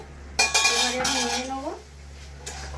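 A metal pan lid lifts off a pan of eggs cooking on a stove with a sharp clank and scrape, followed by a ringing metallic tone that fades, close by and with no talking.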